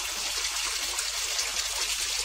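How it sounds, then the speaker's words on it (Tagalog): Water gushes down a kitchen sink drain in Hong Kong, a steady close-up rushing and gurgling flow that runs the whole time without speech. "tatanggalin ko para yung tubig umagos sa baba"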